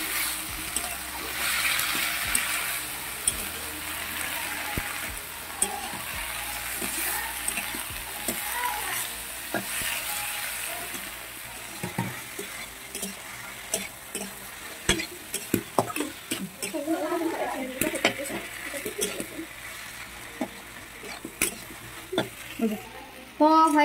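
Spring onion, tomato, ginger, green chilli and cashew frying together in a pan, with a steady sizzle, frequent clatter of stirring and a voice speaking over it now and then.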